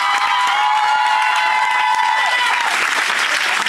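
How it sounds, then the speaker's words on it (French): Dense, loud applause from a large crowd at a French team event, steady throughout with cheering and whoops mixed in, a sustained tone running under the first two seconds before fading. "On peut les applaudir très fort."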